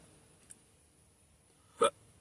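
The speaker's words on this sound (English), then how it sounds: "Why have I got the hiccups?" A single sharp hiccup from a person, close and clear, preceded by a faint small click in an otherwise quiet room.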